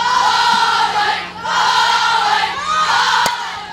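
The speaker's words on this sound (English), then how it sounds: "that crowd, a great soundtrack, a great background to this game" Softball fans of the Corona Angels cheer and shout loudly in a crowd at a 14U national championship game, the roar swelling in waves and dipping briefly before rising again.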